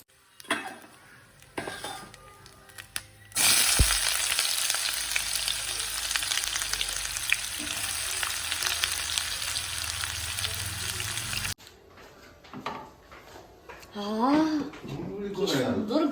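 Onions hit hot oil in a wok with a sudden loud sizzle that hisses steadily for several seconds, then cuts off as people talk and a voice rises near the end.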